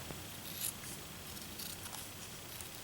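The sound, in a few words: cutting a piece down to size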